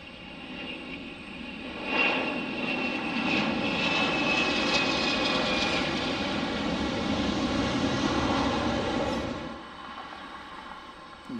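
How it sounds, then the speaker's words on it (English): An Airbus A319 airliner landing at Detroit Metropolitan Wayne County Airport gives a loud, steady jet engine roar that swells in near the start, holds for several seconds, then drops away toward the end, with no talking. "this Airbus A319."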